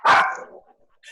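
A dog gives a single sharp, close bark that quickly fades, followed by a brief faint sound and near silence.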